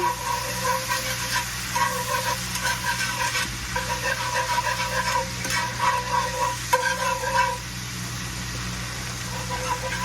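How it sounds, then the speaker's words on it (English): Three tablespoons of butter melt in a hot pan as the base of a roux for pickle juice gravy, giving a steady close sizzle with scraping stir strokes over a low hum, no voices. "I'm going to put my 3 tablespoons of butter. And as soon as that melts, I'm going to add 3 tablespoons of flour."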